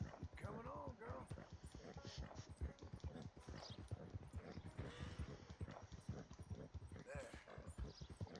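Horse hooves clip-clop in a quick, steady rhythm in Red Dead Redemption 2, loud and close, with a voice talking over the footsteps.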